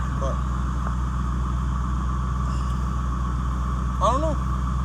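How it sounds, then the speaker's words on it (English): An idling engine with an exhaust leak, a steady close drone overlaid by rapid, even ticking throughout, with brief voice-like sounds near the start and the end. "y'all are hearing that ticking, that's an exhaust leak"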